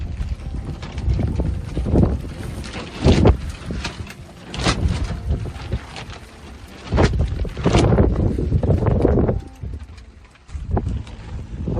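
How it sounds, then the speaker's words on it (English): Strong winter storm winds whip outdoors on an icy, sleety December day around a staked canopy. Gusty bursts of buffeting roar rise and fall repeatedly, with brief lulls between the louder blasts. "these winds are whipping"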